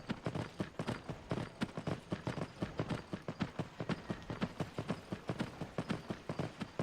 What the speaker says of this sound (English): We'll go in a different direction on the horse.